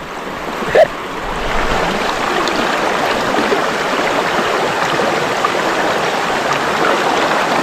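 Steady rushing river water flows continuously over stones at close range, a broad even wash with no voices and only a brief knock early on.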